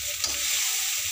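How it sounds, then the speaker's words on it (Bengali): Peanuts, onion and green chili sizzle in a pan, close and moderately loud, as a spoon stirs through them with a brief scraping clatter early on, steady frying hiss throughout. "এতক্ষণে লাড়া দেবো।"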